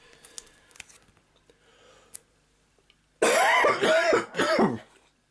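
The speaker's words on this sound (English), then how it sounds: "I just had to cough." One person coughs and clears their throat in a short, loud burst of three or four harsh hacks after a quiet stretch of faint tapping and handling noises.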